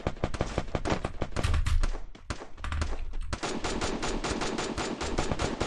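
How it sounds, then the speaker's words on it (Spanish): Dense bursts of automatic gunfire from a Free Fire battle royale match rattle almost continuously, loud and close, with rapid overlapping shots and brief gaps before firing resumes. "Oigo los disparos."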